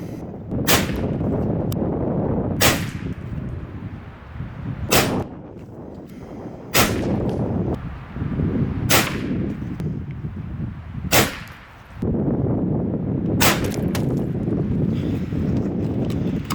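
A Kral Arms NP-500 PCP air rifle fires repeatedly outdoors, each shot a sharp crack with a metallic ping off a steel target, about seven evenly spaced reports over steady wind noise.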